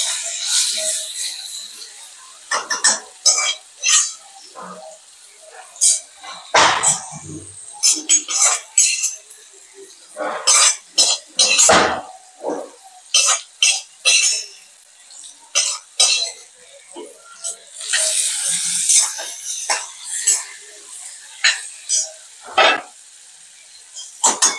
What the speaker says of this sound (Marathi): आता आपण कारली याच्यात टाकणार आहोत